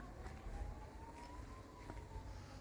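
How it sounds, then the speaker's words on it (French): A distant siren wails with a slowly rising and falling tone over a steady outdoor rumble in Spain. "Ça, et les sirènes s'intensifient."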